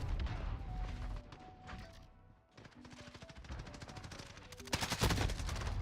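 Rapid gunshots in a first-person shooter video game, with dense bursts of fire, a brief lull, then more shots, moderately loud over a busy game soundscape.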